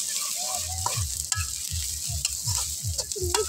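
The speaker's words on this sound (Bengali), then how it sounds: "কড়াইতে পেঁয়াজ রসুন দিয়ে দিচ্ছি।" Onion and garlic frying in a wok for a village fish curry, a continuous close sizzle broken by a regular, rhythmic series of spatula strokes scraping the pan.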